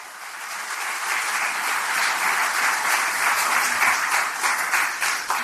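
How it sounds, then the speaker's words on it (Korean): Sustained applause from an audience at a Korean political party meeting of regional committee chairs and lawmakers, a dense, steady wash of clapping lasting several seconds with no voices over it. "뜨거운 박수 보내주시기 바라겠습니다"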